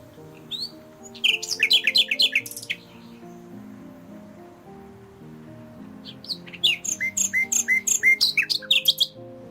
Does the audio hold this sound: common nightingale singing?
yes